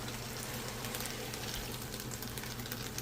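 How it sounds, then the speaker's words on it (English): Chicken and black-eye peas frying in a pot for pelau, giving a steady, even crackling sizzle that stays at an unchanging level throughout, with no talking over it. "You hear that frying there now?"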